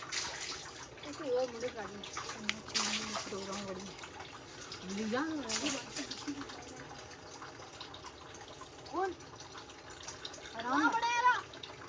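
Very cold water flows steadily from a stone spring in a Kashmir village, a continuous splashing rush with people talking over it.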